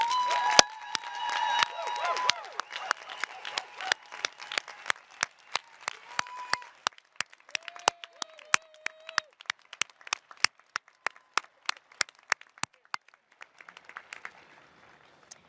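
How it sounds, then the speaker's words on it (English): At a 2021 School of Education commencement ceremony, a crowd claps for graduates; applause starts fuller with some ringing tones, then thins into scattered, isolated claps that trail off over the rest of the stretch. "Please join me in another round of applause for our graduates."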